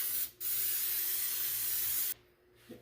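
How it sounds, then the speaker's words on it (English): Nonstick cooking oil is sprayed onto a tart pan in a short hissing burst, then in a longer steady aerosol spray lasting nearly two seconds, close and clear, followed by a faint clink. "Spray that with a little bit of a nonstick cooking oil."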